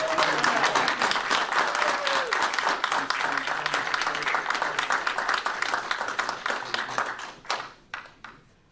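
An audience at a military promotion ceremony applauds, a crisp, close clapping that runs steady for several seconds before thinning out and stopping.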